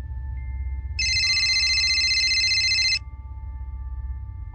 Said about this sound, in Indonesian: tiba-tiba ada suara alarm HP dari luar tenda